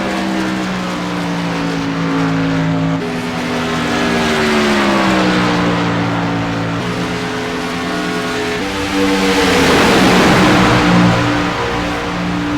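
Race cars roar around the Daytona track under green flag conditions, a loud continuous engine drone whose pitch rises and falls as the pack passes, swelling near the end as cars sweep close.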